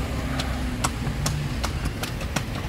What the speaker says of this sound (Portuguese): Melhor motor de trem pra nós,